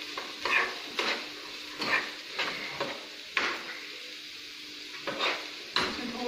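Vegetables for a green stuffed dosa filling fry in a pan with a soft, steady sizzle, broken by a regular series of scraping stirs of a spatula against the metal, close and fairly quiet.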